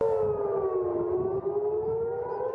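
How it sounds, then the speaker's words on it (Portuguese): A civil defense air raid siren sounding in Israel, one loud, steady wailing tone that holds on and drifts slightly lower in pitch, with nothing else heard over it. "As sirenes soaram diversas vezes neste sábado de manhã em Jerusalém, em Haifa, no norte de Israel, e em Tel Aviv também"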